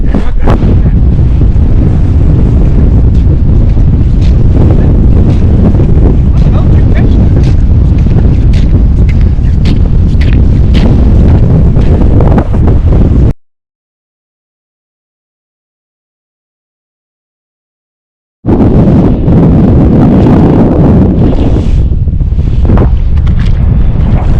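Steady wind buffets the microphone outdoors on a fishing trip, a loud continuous broadband rush with gusty thumps, cut by several seconds of total silence before resuming just as strong.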